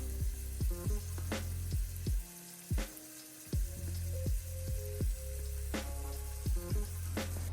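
Raw chicken fries in a pan with a steady sizzle throughout, punctuated by repeated clinks and scrapes of utensils against the cookware nearby.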